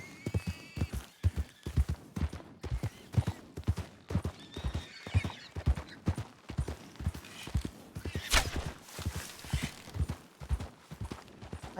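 A horse gallops in a video game, with steady rhythmic hoofbeats clopping loudly for the whole stretch and a whinny rising partway through.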